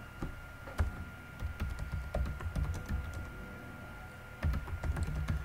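Someone types text in a word processor on a computer keyboard: a steady run of close, crisp key clicks with occasional heavier strokes and brief pauses, heard alone against a faint background hum.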